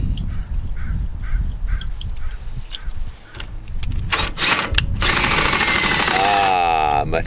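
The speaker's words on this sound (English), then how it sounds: "make sure that you check your jacks, make sure that they're working okay, and that they are lubricated as they should be" RV leveling jacks run after being lubricated, producing loud rough mechanical grinding and clattering that shifts into a steady higher-pitched whine, close by and continuous throughout.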